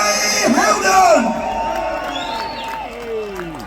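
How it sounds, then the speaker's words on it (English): Protest crowd in Manchester cheers and whoops for a speaker, with loud shouts and bellowing voices over scattered applause, fading into a lingering background murmur. "please give a huge round of applause to our next guest speaker, Harry Hilden"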